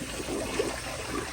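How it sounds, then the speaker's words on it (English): A 2007 Mansfield Alto siphon toilet flushes, close up, with a steady rushing trickle of water swirling through the bowl across the short span. "but here's another flush."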